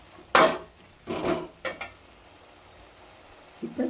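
Tomatoes frying in oil in a pan, stirred with a spoon in a few separate scraping strokes over a faint sizzle, close up and moderately loud, with pauses between the strokes.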